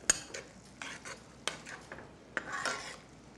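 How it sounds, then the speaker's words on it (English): Canned chili is stirred into sauce in a pot, with repeated metal spoon scrapes and clinks against the pot in an uneven rhythm over a faint background sizzle, close and with no talk. "Stir it in real good."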